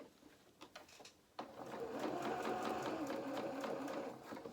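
A sewing machine stitches a doll jacket sleeve, starting with a few short bursts and then running in a steady, fast, continuous whir at close range and low volume.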